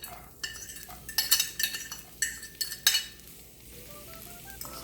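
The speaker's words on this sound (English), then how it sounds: "I've heated some oil to the skillet. So now we're going to add a half of onion." Half an onion dropped into hot oil in a skillet, with metallic clinks and scraping as it is stirred against the pan, followed by a soft sizzle. The sharp knocks are irregular and close, with quieter stretches between them.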